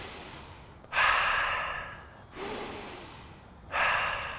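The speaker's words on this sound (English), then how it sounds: "The way we're gonna break that cycle is by breathing in through our nose," Three slow, deep breaths through the nose, each a loud hissing intake that swells and tapers, with short quiet gaps between them.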